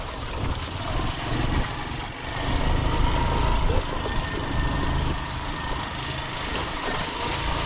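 A vehicle engine likened to a tractor runs steadily and loud, a rough low rumble with slight surges, close by and with no talk over it.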